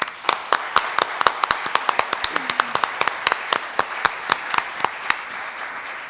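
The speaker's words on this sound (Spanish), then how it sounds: "para quien pido un fuerte aplauso" Audience at a master class on Gabriela Mistral's poetry claps for the teacher, sparse distinct hand claps in a loose irregular rhythm rather than a full dense roar, fairly close and clear.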